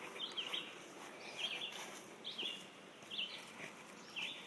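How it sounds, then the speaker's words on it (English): Faint, high bird chirps repeat every second or so over a soft outdoor hiss, distant and quiet with no talking. "I don't know if you can hear the birds singing,"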